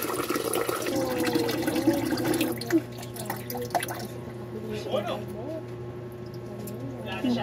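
Water is poured into a pot of rice, giving a gurgling, splashing trickle with scattered drips that fades after a few seconds, while people talk nearby.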